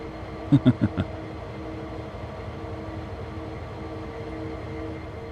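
A diesel locomotive in the Train Sim World 3 game idles on yard duty on the CSX Heavy Haul route. It is a steady low rumble, with a few sharp clanks near the start.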